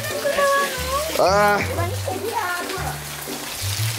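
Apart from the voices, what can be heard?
rain falling at a construction site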